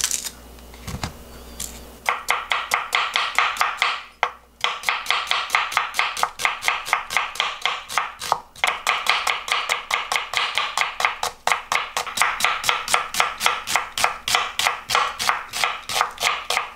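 A knife slices onions very thinly on a cutting board for onion jam, producing a long run of rapid, even, crisp chops that stay close and steady, with a brief pause early on and no talking.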